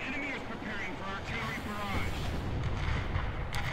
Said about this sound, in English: Someone's calling in artillery on a capture